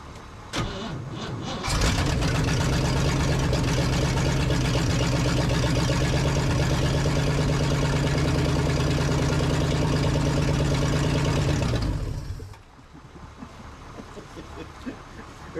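A 1965 Chevy C20 truck engine cranks and catches, then runs loud and steady at a fast idle for about ten seconds before shutting off, leaving quieter background noise.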